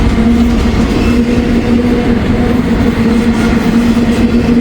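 A long freight train carrying containers rolls past up close, a loud, steady rumbling roar with a constant low hum and wheel noise throughout.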